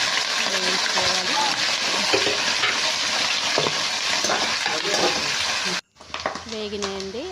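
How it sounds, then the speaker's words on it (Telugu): Onions, cumin and curry leaves fry in a pan for a fish curry, a steady loud sizzle with stirring scrapes. It breaks off abruptly near the end, then a softer crackle returns with talk over it. "జీలకర్ర వేసుకొని ఆనియన్ కరివేపాకు వేసుకొని మంచిగా వేగించుకోవాలి."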